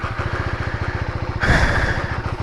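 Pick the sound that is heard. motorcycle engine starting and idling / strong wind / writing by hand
motorcycle engine starting and idling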